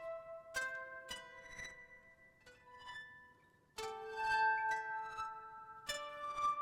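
A Noisy 2 synth from Expressive E plays alone in a series of plucked, bell-like tonal notes with sharp attacks and ringing decays, clear and fairly quiet, with a few overlapping chords.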